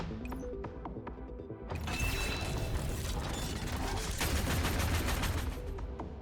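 Units in Girls' Frontline: Neural Cloud open fire in a sustained barrage, a dense, loud stream of rapid mechanical gunfire that swells after a softer opening and continues unbroken.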